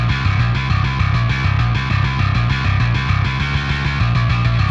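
Dense, distorted bass line from the Nolly Bass virtual instrument, playing a steady chugging rhythm with strong low end and a gritty upper edge, loud and continuous with no voices.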